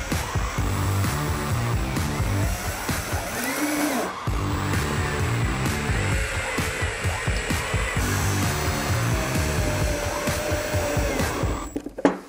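A power saw cuts wooden boards to length, a loud steady whine that runs almost continuously, with the pitch sagging and recovering as the blade bites, then ending with a sharp clunk.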